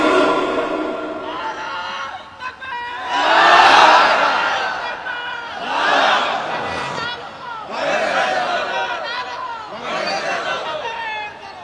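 A crowd at a Bangla Islamic sermon gathering calls out the takbir, 'Allahu Akbar', in several loud, swelling group shouts. Each rises and fades over a few seconds, with crowd murmur between the calls.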